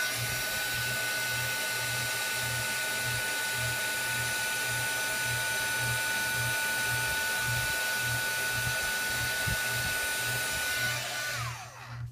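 A heat tool blows steadily for about eleven seconds, heat-setting embossing powder on a card, with a constant whirring hum and a high whine that cut off abruptly near the end, no voices.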